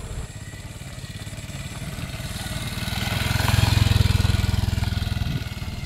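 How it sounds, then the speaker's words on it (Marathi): A motorcycle engine chugs steadily with rapid low pulses while descending a rough slope near Shahapur, swelling louder midway as it revs under load, with faint clatter over rough ground. "अशा खडतर उतारावर बाईक उतरवणे एक आव्हानच असते"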